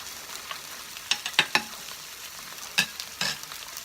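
Butter sizzles softly in a pan while chicken marsala cooks, a low, steady fizz under a handful of sharp clicks and taps of utensils against the pan, with no talking.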